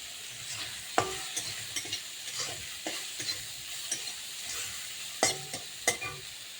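Zucchini-type flowers frying in a pan with salt and turmeric, stirred with a spatula: steady soft sizzle with scattered scraping clicks and knocks, fairly quiet and close.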